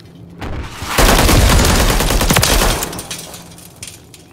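Bursts of rapid automatic gunfire in Call of Duty on the Scrapyard map, a loud sustained volley near the listener lasting a couple of seconds before tapering to scattered echoes.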